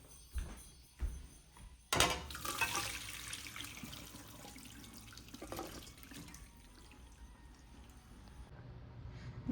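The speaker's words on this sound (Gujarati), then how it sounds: "હવે નિતાર દઈએ, ગરમ પાણી કાઢી દઈએ." Hot water drains off boiled cluster beans, splashing in short bursts at first, then a surging pour that settles into a softer, steady trickle.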